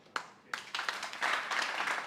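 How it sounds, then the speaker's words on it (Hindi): Applause from a Pakistani community gathering in Barcelona welcoming a guest, starting with a few scattered claps and swelling into steady broadband clapping from a moderately distant crowd. "ये इनकी तालियों की गूंज आपको बता रही है।"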